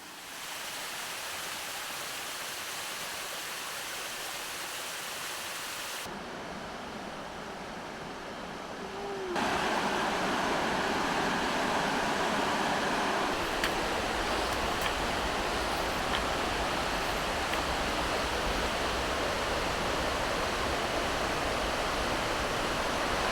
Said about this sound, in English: the sound of moving water is naturally calming